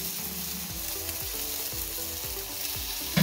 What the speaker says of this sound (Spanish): Mientras se doran nuestras pechugas, vamos a aplicar las verduras. Un poquito de cebolla.